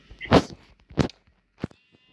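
A few short bleats from a sheep in a video game, two quick calls followed by a fainter one, thin and slightly electronic over near silence.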